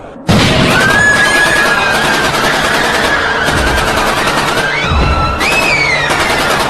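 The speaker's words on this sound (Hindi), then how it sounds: "मेन हॉल की भीड़ पर अंधाधुंध फायरिंग शुरू कर दी" Rapid bursts of gunfire crackle over a dense, chaotic mix with whistling tones and shrill cries, loud and continuous throughout, in a dramatized scene of attackers firing on a crowd in a hotel's main hall.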